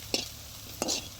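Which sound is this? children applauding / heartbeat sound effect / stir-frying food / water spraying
stir-frying food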